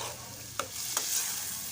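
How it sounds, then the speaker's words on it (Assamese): A blended paste being stirred and fried in a pan over a high gas flame for banana-flower pitha, giving a soft steady sizzle with two sharp scrapes of the spatula, fairly quiet. "এইখিনি দি আপুনি ভালকৈ লৰাই ল'ব আৰু গেছৰ ফ্লেমটো হাই কৰি দিব।"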